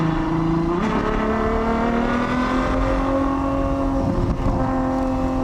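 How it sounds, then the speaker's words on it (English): 2021 Ferrari 812 GTS engine running, a steady close drone with a smooth rise in pitch near the start and a small shift later, heard from inside the car without talk. "I'm listening to the music of the engine now."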